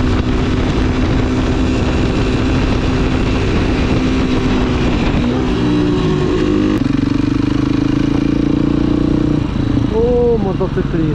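A tuned Romet Ogar 200 motorcycle with a swapped engine revs loudly and close, its pitch rising and falling in sustained pulls, with a brief shift in tone midway.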